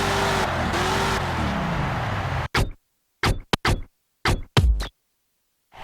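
The Grave Digger monster truck in the video game Monster Jam: Urban Assault roars with a loud, rising and falling engine drone, then breaks into several short, sharp revving bursts separated by silence.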